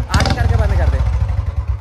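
A Yamaha MT-15 motorcycle engine revs briefly with a sharp throttle blip, then settles into a loud, close, rough idle.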